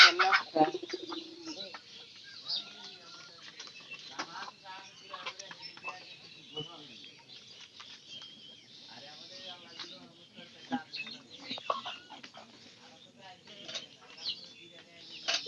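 Hens cluck and coo intermittently at a modest distance on a poultry farm, with people talking over them throughout.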